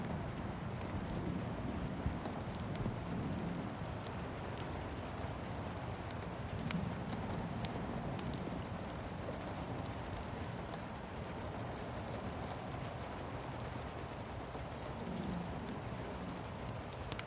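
Rain falling outside a forest cabin: a soft, even hiss of steady rainfall, faint and continuous, with occasional light ticks of drops, and no voices.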